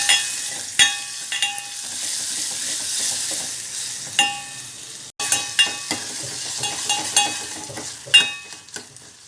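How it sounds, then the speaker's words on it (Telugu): Tomato pieces fry in hot oil until soft, giving a continuous close sizzle broken by repeated sharp clinks and scrapes of a utensil stirring the pan. "ఈ టమాటో ముక్కలు మెత్తగా సాఫ్ట్గా అయ్యే వరకు ఆయిల్లోనే మగ్గించుకోవాలి."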